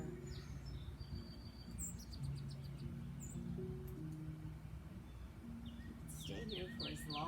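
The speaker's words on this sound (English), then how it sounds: "enjoy the sounds of the birds" Songbirds singing outdoors on a fresh-air morning, with bright chirps and whistled phrases scattered across the whole stretch over a steady low hum of the surroundings, getting busier and louder toward the end.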